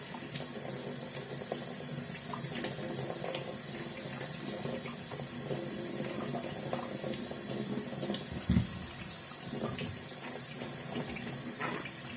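Guavadillas rinsed under a running tap, a steady close rush of faucet water with small splashes and clatters as the fruit is handled, one brief louder thump near the end, and no voices.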